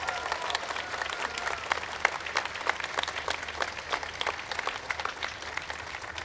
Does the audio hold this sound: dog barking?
no